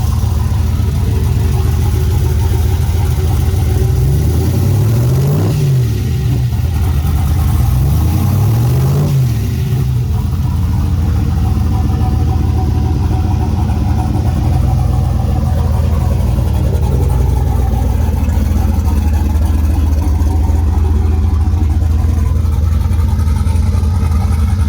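A turbocharged Pontiac WS6 Trans Am engine runs loud and close, rumbling at idle with two quick revs near the start before settling into a steady, heavy idle with no talking.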